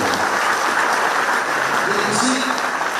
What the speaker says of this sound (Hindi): इन बच्चों को ताली बजाकर धन्यवाद।